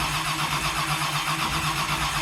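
A 525 big block Chevy engine swapped into a Mustang cranks and catches, giving a loud, close, rough mechanical roar that stays dense and steady the whole time.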